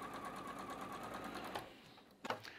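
A sewing machine runs a rapid, steady stitching rhythm along a quarter-inch seam on a fabric quilt block, close and continuous, then stops partway through, followed by a couple of soft handling clicks.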